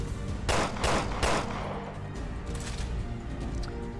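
Three quick bursts of gunfire from a freezing gun in Resident Evil Revelations 2, loud and close, followed by a busy, rumbling game soundscape with faint scattered impacts.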